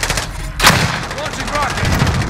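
Gunfire in the video game Call of Duty: Warzone, one loud sharp shot burst followed by rapid quieter shots and game noise, with a voice briefly heard.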